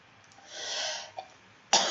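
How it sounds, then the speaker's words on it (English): A hoarse cough bursts out sharply near the end, preceded by breathy throat noise and a brief smaller catch, fairly close and alone with no talking. "I'm sorry about the coughing"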